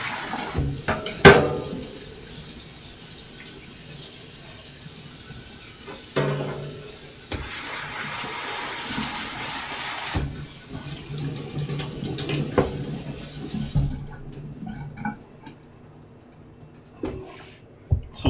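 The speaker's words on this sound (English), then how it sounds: "Spraying it with hot water there." Hot water sprays into a kitchen sink for a long stretch with occasional clinks of dishes, then cuts off near the end.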